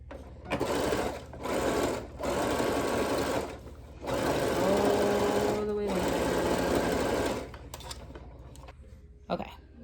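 A sewing machine runs straight stitches down a seam on a pair of stack joggers, in several loud bursts separated by short pauses, with one long steady run in the middle and a few faint clicks at the end.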